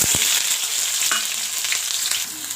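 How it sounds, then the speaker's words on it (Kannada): Onions frying in hot oil with garlic and dried chilies, giving a steady close, bright sizzle with a few brief spatula scrapes and pops along the way. "ನೋಡಿ ಈರುಳ್ಳಿಯನ್ನು ಚೆನ್ನಾಗಿ ಫ್ರೈ ಮಾಡ್ಕೊಳ್ಳೋಣ."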